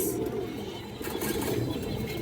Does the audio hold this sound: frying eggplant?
no